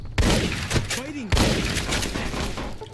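Gunfire in Fallout: New Vegas, Honest Hearts: loud, close shots crack in a ragged burst with a few heavy impacts and rattling debris, while a voice talks at times.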